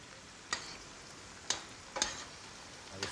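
Slivers of pork and black pudding fry quietly in a pot, a faint soft sizzle broken by four sharp scraping strokes as they are stirred.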